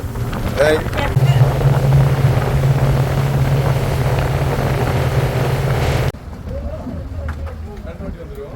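A motorboat engine on a trip off Malaysia hums steadily and loudly with wind buffeting the microphone, then drops to a quieter idle near the end as the boat is brought to a stop.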